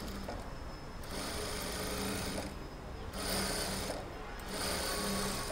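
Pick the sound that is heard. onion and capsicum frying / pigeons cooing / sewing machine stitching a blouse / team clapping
sewing machine stitching a blouse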